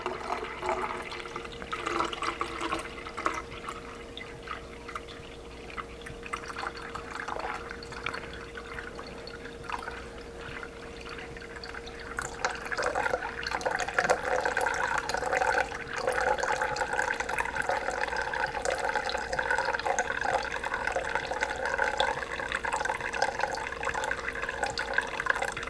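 Water trickling and splashing as it is poured off the top of settled clay slurry made from dirt, a soft dribble that grows fuller and steadier in the second half.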